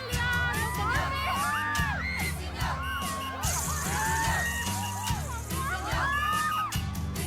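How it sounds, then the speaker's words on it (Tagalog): A crowd in Cebu screams, shouts and cheers loudly for David Licauco, with high excited yells rising again and again over a steady low beat. "Grabe yung hiyawan kay David."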